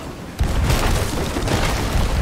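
A cannon booms in a ship battle video game, a sudden loud blast that erupts and then rolls on as a dense, sustained rumble.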